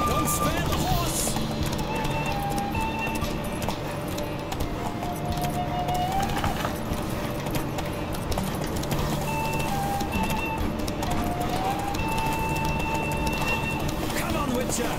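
Rhythmic hoofbeats of a galloping horse in The Witcher 3: Wild Hunt run steadily throughout, with voices talking over them and some whistling tones.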